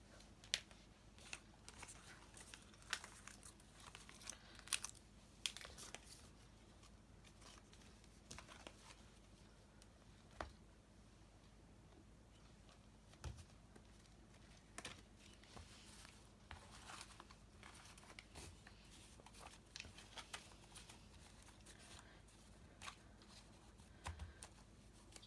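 Tarot cards shuffled and drawn for a reunion reading, a steady run of soft riffling and patting clicks, close and quiet throughout with no voice.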